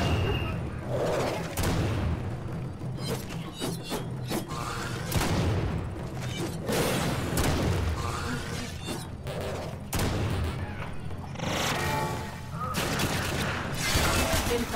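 Gunfire in the video game Warframe, dense bursts of shots and booming impacts throughout, layered with game effects and a voice talking over the action.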